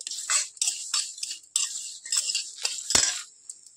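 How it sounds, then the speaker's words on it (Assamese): Bottle gourd payesh being stirred in a pot, a spoon scraping and clinking against the metal in short irregular strokes, close and clear, with brief pauses between them. "এইখিনি ভালদৰে দি মই লৰাই আছোঁ।"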